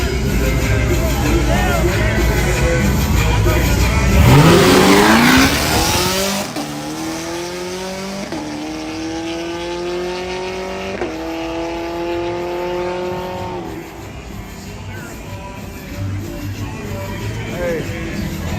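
A Cadillac on mud tires racing on a hood track, its engine revving loud and close with a burst of tire spin, then rising gear-like whines as it pulls away, with music and voices over it.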